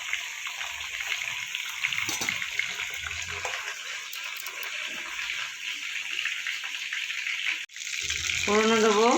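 Prawns frying in oil give a steady, close crackling sizzle for most of the stretch. It briefly drops out, then returns with a brighter, warbling tone layered on top.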